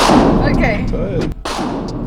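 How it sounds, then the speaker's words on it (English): A Mossberg 590 shotgun fires a 3-inch shell, giving one loud, close blast that rolls into a long booming decay, heard alone with no talking. "I should shoot it from the hip."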